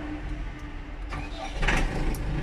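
A car engine turns over and catches, rising from a muffled crank into a louder running rumble in the final second, close by and with no talk.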